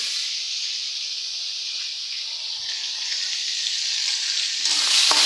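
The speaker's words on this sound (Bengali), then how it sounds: "এই যে কড়াইতে কাঁচামরিচ পেঁয়াজ দিয়ে দিয়েছি" Onion and green chillies fry in hot oil in a wok with a loud, steady hiss of sizzling that swells slightly toward the end, with no talking.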